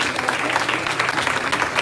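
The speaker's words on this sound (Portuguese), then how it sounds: "vamos aplaudir o Senhor Jesus" Church congregation applauding during a worship service, a dense, steady wash of clapping from many hands that holds evenly throughout, with no voices standing out.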